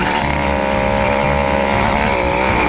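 An 80cc motorized bicycle engine, running lean, drones at a steady high-revving buzz, loud and close with no pauses and no voices.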